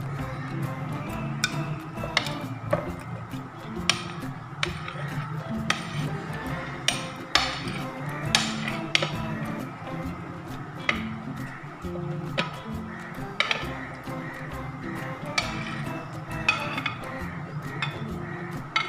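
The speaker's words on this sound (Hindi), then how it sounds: "सबसे पहले हम ये सारी चीज़ें जो हैं, ये सारे फ्रूट्स जो हैं इस बॉल में डाल देते हैं।" Chopped papaya, apple and canned fruit cocktail are tipped into a kitchen bowl for a creamy fruit chaat. Repeated small clinks and knocks, irregular and fairly close, run throughout over a soft background hum.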